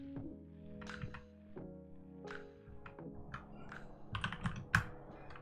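Keys clack on a computer keyboard while a command is typed in a Linux terminal on an Ubuntu server, scattered close taps and thunks with pauses between, ending in a quicker flurry of strokes.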